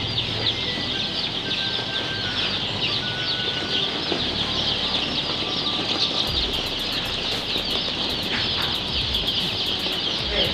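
A crowd of young chicks, seven to ten days old, cheeping continuously in a dense, high-pitched chorus, with occasional wing flutters and shuffling, fairly close and without speech.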